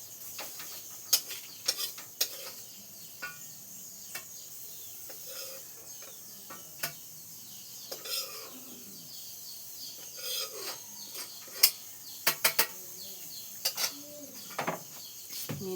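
A ladle scrapes and clicks against a frying pan while fried chilies are scooped out, making a scattered run of short metallic taps and scrapes over a steady hiss.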